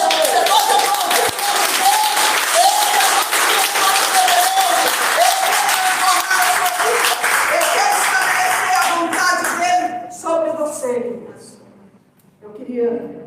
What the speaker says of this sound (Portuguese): Esse é o nosso Deus, você pode aplaudir.